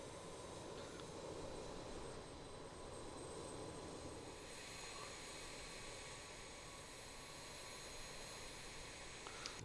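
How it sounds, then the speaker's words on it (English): Simulated jet engine number three of a BAE 146 airliner spooling up in Microsoft Flight Simulator, a faint steady turbine roar and whine held at low level without talk. "So that's engine 3 there that you can see spinning up."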